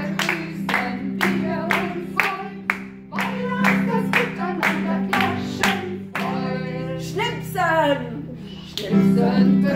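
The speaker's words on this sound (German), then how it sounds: "Klatschen. Klatschen. Alle mitmachen, ne?" Children and a teacher in a morning circle clap their hands together in a steady, even rhythm along with a sung greeting, the claps sharp and close, with singing voices carrying over and between the beats.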